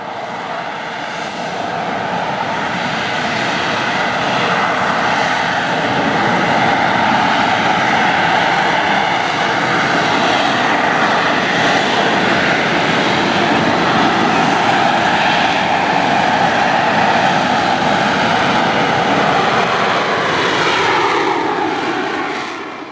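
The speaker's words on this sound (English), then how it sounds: "Marine Corps' own AV-8B Harrier jump jet." A Marine Corps AV-8B Harrier jump jet performs at an air show, its loud engine roar sustained and broad for over twenty seconds, swelling gradually then fading slightly at the end.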